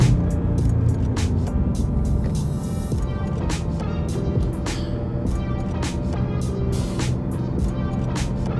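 A Ford Mustang GT 5.0 spins its tires in second gear, its loud engine roar mixed with rough tire noise and sharp, irregular clicks and bangs throughout.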